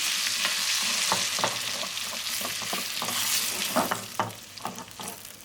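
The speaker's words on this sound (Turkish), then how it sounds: "Sosu ekliyorum. Birkaç kez karıştırıyorum." Sucuk frying in a pan as breakfast pepper sauce is stirred in, giving a continuous close sizzle broken by scraping spoon strokes that get sparser and clickier toward the end.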